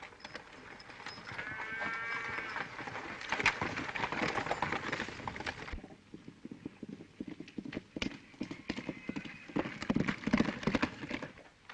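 Horse hooves clip-clopping in a 1934 western film scene, a busy fast rhythm of hoofbeats under music that continues steadily and grows more scattered and louder toward the end.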